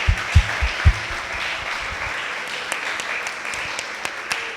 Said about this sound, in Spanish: yo pido en este momento un aplauso fuertísimo para ellas